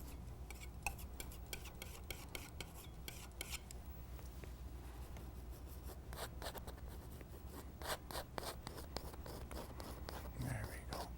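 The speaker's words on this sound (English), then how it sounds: "fire it in and just rub it on, rub it in" Paint brush scrubbing and rubbing paint onto a canvas, faint and close, with soft, irregular scratchy strokes in short bursts.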